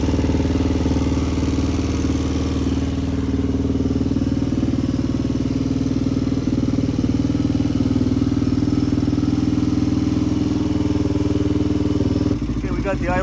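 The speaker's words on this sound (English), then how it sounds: "Okay, we got the idle down a little bit. It sounded really good. Very healthy engine." Loud and close, the engine of a freshly built HRC XR628R motorcycle idles in an even, continuous throb, with a low steady pulse that stays level almost to the end and a voice briefly heard at the close.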